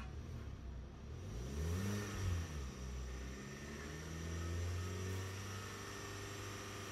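A 2010 Hyundai Santa Fe engine revving while driving, being road-tested for a P0106 fault: a low engine hum that swells and rises in pitch twice, faint and steady underneath, with no talking.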